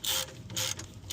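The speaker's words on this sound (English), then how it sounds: "I'm going to try to turn it with this ratchet now" A socket ratchet working a seized starter bolt on a 1984 Chevy S-10 Blazer, three quick bursts of close, loud clicking from the pawl, each separated by a short pause.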